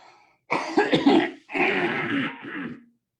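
Two bursts of harsh coughing close to the microphone, the first choppy and the second a longer rasping cough, then silence.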